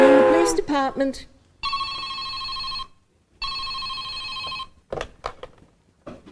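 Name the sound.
telephone ringing, calling the police department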